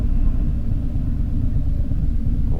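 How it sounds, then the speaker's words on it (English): Cars passing on a road near a traffic light, heard as a steady low rumble of traffic that persists at moderate loudness throughout, with no talking. "I see cars coming through"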